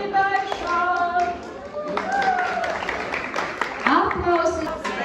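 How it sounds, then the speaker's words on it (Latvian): Audience applause at a Latgalian folk music event, scattered clapping mixed with voices and music over a few seconds. "Aplausi!"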